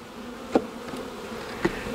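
Honey bee laden with pollen buzzing around the top box of a hive, a close steady drone with two brief louder passes as it moves nearby.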